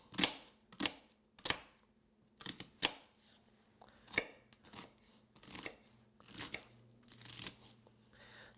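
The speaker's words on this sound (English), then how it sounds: "cut it right down the middle, slice it across" Knife slicing vegetables for poppers on a cutting board, a quick irregular run of sharp crisp chops, about a dozen cuts spaced close together, near and clear with no talking.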